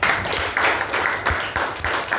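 A class claps together in a series of short, loud bursts of group applause, each surge rising and fading in a fairly even rhythm.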